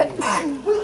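A single short, sharp sneeze, close and fairly loud, over in under a second.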